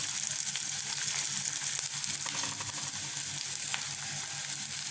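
Curry leaves crackle and sizzle in hot oil in a pan for a Sri Lankan chicken curry, a steady close frying hiss with faint stirring scrapes throughout.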